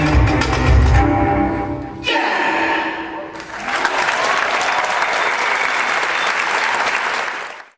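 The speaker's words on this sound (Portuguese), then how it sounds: "O público aplaudiu." A theatre audience applauds loudly and steadily for several seconds after music stops, a dense wash of clapping that cuts off abruptly at the end.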